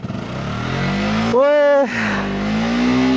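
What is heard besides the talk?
motorcycle engine starting and revving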